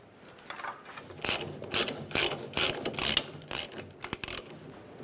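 Ratchet snugging down fuel pump assembly strap bolts on a 1999-2006 Chevrolet Silverado, a series of short, sharp clicking bursts close by, with quick rapid clicks near the end and no speech.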